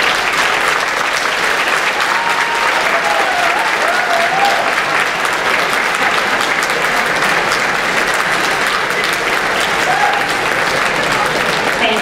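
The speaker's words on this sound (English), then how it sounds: "graduates, at this time, I invite you to stand as a class and applaud the faculty, your parents, relatives, and friends" At the Affton High School Class of 2015 graduation, the standing graduates applaud faculty, parents, relatives and friends in a long, dense, sustained wave of clapping that fills the hall, with faint voices mixed in.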